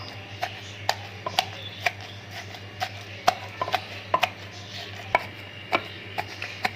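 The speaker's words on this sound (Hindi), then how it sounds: "कुंडी डंडे में इसलिए पीस रही हूँ" Meat for resha kabab pounded in a mortar and pestle: a steady run of sharp, close knocks at an uneven rhythm, about two a second, with no talk over them.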